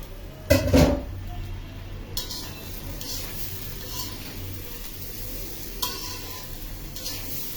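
Rice and lentils being stirred together in a pot for bhuna khichuri, with a brief louder scrape near the start and then a soft, steady stirring and faint sizzle that carry on quietly with occasional light clinks.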